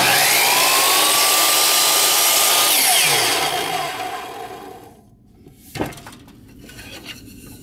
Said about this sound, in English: I'm going to make one final trim cut with both of them in the saw